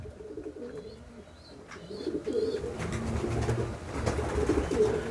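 Domestic pigeons coo in soft, repeated throaty phrases at close range, released in the morning, with wing flutters and faint rustling between calls.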